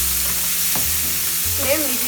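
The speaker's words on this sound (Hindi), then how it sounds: "प्याज हमें हल्का सा फ्राई करना है, जब तक नाइस गोल्डन कलर नहीं आ जाता है तब तक" Onions frying lightly in a pan over a medium flame until golden, for a Bengali posto pomfret curry: a steady, close sizzle with a soft stir and light crackle.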